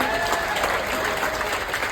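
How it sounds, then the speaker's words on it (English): Audience on a Norwegian Cruise Line ship applauds three couples after a not-so-newlywed game show round, a loud, dense burst of clapping and crowd noise. "Give all three couples a big round of applause, ladies and gentlemen."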